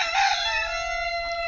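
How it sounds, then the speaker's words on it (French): A rooster crows loudly and close, one long strained call with a harmonic, drawn-out tail, over faint low background rumble. "Et il y a les coqs qui chantent,"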